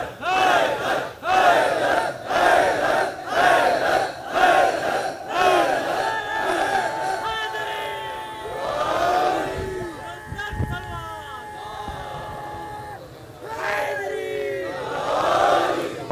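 Mourners at a large Muharram majlis gathering at Nishtar Park chant loudly together in rhythmic bursts, the crowd's voices rising and falling in unison.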